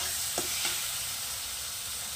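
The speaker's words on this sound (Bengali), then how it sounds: "এবার মশলাগুলো একসঙ্গে সব ভালো করে মিশিয়ে নেব।" Ground cumin, chili and coriander powders sizzle in hot oil in a pan for chicken ghugni, with a steady close frying hiss and two light scrapes of a spoon stirring near the start.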